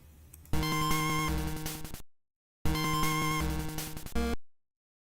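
Retro chiptune sound for a GB Studio game called Pyrotoad, with a rich buzzy note pattern that plays as a phrase of about one and a half seconds, stops, then repeats once after a short silence.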